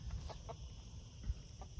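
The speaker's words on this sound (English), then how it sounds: "And Rosa always makes funny noises if she wants to come on your lap to be cuddled." A hen making a few soft clucks and low throaty murmurs, quiet and close, with a steady background hum and no speech.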